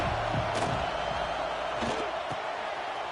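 Stadium crowd noise in College Football 26 forms a constant roar under a commentator's voice, with a few sharp thuds from the field breaking through.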